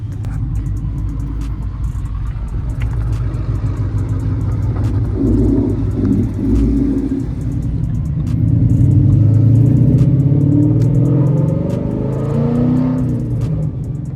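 A 2014 Ford Mustang GT engine, fitted with an aluminum one-piece driveshaft, rumbles from inside the moving car, low and steady, swelling as it accelerates partway through.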